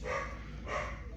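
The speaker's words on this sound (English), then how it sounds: "excuse the dog barking, guys." Two muffled dog barks come from another room, fairly faint and spaced apart, over a steady background hum.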